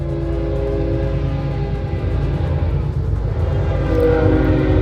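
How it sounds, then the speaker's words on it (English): A loud video game train rumbles past close by, a steady heavy roar with a horn-like tone, no talking. "Choo-choo, there goes the train."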